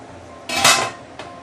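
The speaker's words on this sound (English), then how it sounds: "I'm going to close this with a lid" A lid set onto a cooking pot of green bean dessert soup gives one close metallic clank followed by a fainter rattle of settling metal.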